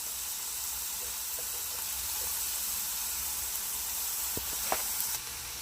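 Carrots frying in a hot pan for crispy beef samosas, a steady loud sizzle and hiss running throughout with a few small clicks and taps near the end, no talking.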